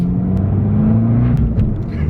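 A 180-horsepower Abarth 595 hatchback accelerates through the revs with a steady, rising engine drone heard from nearby, loud and unbroken, with no talking over it.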